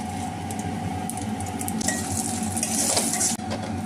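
Dry red chillies and panch phoron sizzle in a little hot oil in a kadai used for frying fish, a steady close crackle with faint utensil clinks, no talking.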